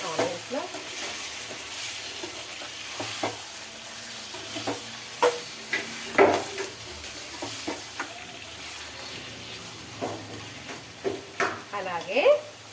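Onions sizzle in a hot pan while a spoon stirs them, scraping and clacking against the metal in irregular strokes over a steady frying hiss; a voice talks now and then.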